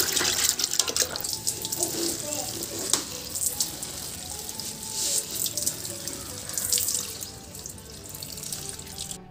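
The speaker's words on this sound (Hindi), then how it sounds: "यहाँ पे मैं प्लांट्स में पानी डाल रही हूँ।" Water runs steadily from a tap or hose while potted plants set outside are watered, a continuous splashing hiss with small clinks and knocks, fairly close and with no speech over it.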